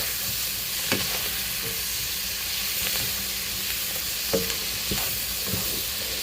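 Pork and spinach fry in a pan with a continuous close sizzle, broken by occasional scrapes and knocks of a utensil as the food is stirred.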